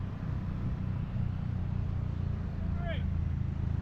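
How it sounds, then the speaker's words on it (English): Steady traffic drone on a hot Bangkok street with a car rolling past close by, a brief high horn-like chirp near the end, and people talking over the din. "There's a car."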